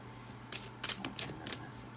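Tarot cards riffle and flutter in a few quick bursts, soft papery shuffling sounds with short pauses between, close by and without speech.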